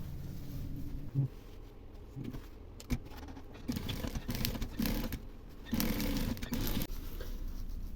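A sewing machine stitching lining onto quilted raincoat fabric, a steady close mechanical whir with fast ticking needle strokes running in stretches, with brief pauses and fabric handling between them.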